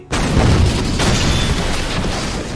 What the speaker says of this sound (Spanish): fue interrumpido por un estruendo de explosiones a lo largo del espinazo de la